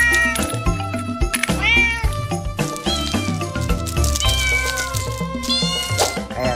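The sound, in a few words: toy cat making meowing sound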